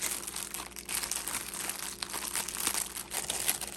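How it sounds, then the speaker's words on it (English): Plastic packaging crinkles and rustles continuously up close as envelopes are unwrapped, a soft, busy crackling with small tearing sounds. "So let's unwrap these envelopes."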